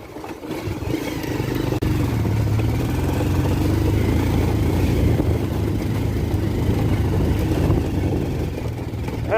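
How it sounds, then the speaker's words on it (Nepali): Motorcycle engine labouring steadily uphill on a rough, stony road, a loud continuous drone with clattering, with no talk. "बाइकले तानेन गाइस"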